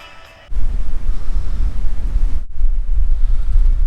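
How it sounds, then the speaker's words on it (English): Strong wind buffets the microphone in a loud, rumbling roar that starts abruptly and continues steadily, with a momentary dip midway. "It's still windy out"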